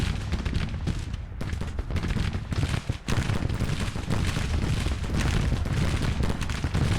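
Grand Tactician Civil War battle din: dense, continuous crackle of massed infantry rifle volleys with heavy booms mixed in, loud and sustained throughout with a brief dip midway.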